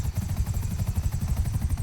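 A helicopter in a video game roleplay thumps with fast, regular rotor beats, a loud steady chop filling the whole stretch.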